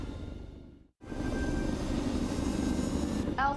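An aircraft engine drones in flight in the LEGO Marvel's Avengers video game, a steady broad roar that cuts out briefly near the start and then holds loud and even.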